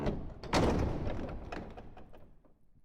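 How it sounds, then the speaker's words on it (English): A heavy door in the fantasy video game Hero-U swings open with a loud thudding creak up close, followed by a string of decaying knocks and rattles that fade out. "Open the door."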